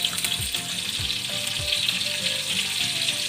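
Oil heating in a kadai sizzles steadily with a bright, continuous crackle, while a few low knocks and scraping stirs sound close by; no one speaks.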